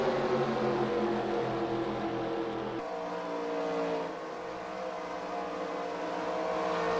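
Several simulated race car engines drone together at Daytona in eNASCAR Heat, a steady layered whine that drops in pitch near the three-second mark as the pack shifts, holding loud and continuous with no voices.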